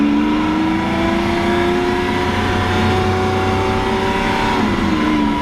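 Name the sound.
Lamborghini Aventador Roadster Pirelli edition engine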